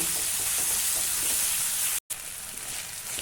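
Eggplant seeds fry in oil in a pan with a dense, even crackling hiss heard close up. A brief cut of silence breaks it midway before the sizzle resumes. No voices.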